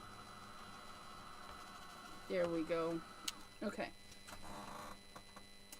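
A small handheld craft dryer blows air over paper craft pieces for an Easter bunny card, giving a steady, even whir throughout with a brief exchange of speech over it midway.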